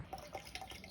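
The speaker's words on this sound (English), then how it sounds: "Stop making that dripping sound." Quiet water drips from a bottle into water, a few soft irregular plinks close by with no talking over them.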